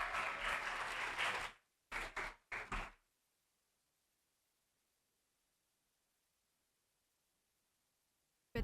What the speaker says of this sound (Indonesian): Boleh tepuk tangannya semua.